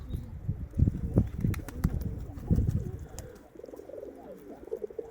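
Pigeons coo low and rhythmically at a rooftop loft, with soft wing flutters among the calls, fairly close and quiet.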